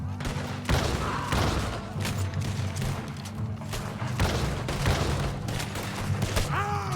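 Rapid, repeated shotgun blasts in Red Dead Redemption 2, a dense run of booming shots close by, overlapping with game ambience and no clear pauses.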